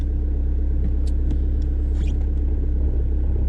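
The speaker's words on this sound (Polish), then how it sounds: "Nie można mieć wątpliwości, że diesel pracuje pod maską." A VW Polo 1.9 diesel engine idles under the hood on a wet day, a steady low, throbbing rumble with faint ticks and knocks on top, heard close with no talk.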